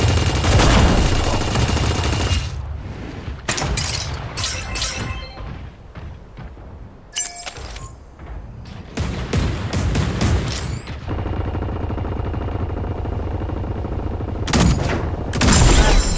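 Bursts of gunfire in Super Mecha Champions, a mech battle-royale game, come in several loud volleys of rapid automatic shots separated by short gaps, with heavy booms and thuds mixed in.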